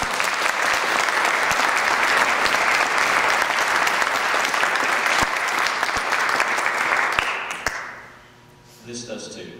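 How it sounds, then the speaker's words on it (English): Sustained loud applause from the audience at a Holocaust education program, dense and even for several seconds, then thinning into scattered claps and fading near the end. "You can clap. That deserves it."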